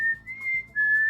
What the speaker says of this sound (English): Wow, you can whistle really well.